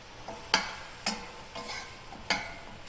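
Pork ribs are deglazed in a sizzling skillet, with four distinct scraping strokes of a utensil across the pan over a soft, continuous fry.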